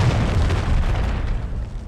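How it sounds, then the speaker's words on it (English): A cruise missile explosion in the video game Modern Warfare 3, a heavy, rumbling boom that rolls on as a deep sustained roar and slowly fades, with no voices over it. "Friendly cruise missile deployed."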